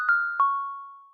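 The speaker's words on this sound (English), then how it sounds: "we hear this bell that's like been playing through the whole part" Bell synth patch from iZotope Iris with all effects switched off, sounding two clean struck tones in quick succession, the second ringing out and slowly decaying alone in silence.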